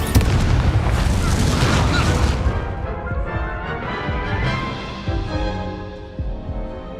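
Combat spells such as Confringo, Stupefy and Incendio explode in the Hogwarts Legacy video game, with loud booming blasts and crackling over a dense roar that slowly fades into rumbling game sound.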